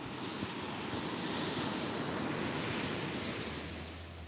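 Ocean surf at a beach breaks and rushes in a steady, loud wash of noise that fills the whole stretch, with some wind rumble against the microphone and no voices.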